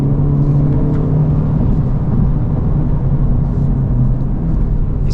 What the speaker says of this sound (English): These Pod Sport 4S's are so loud, even on track.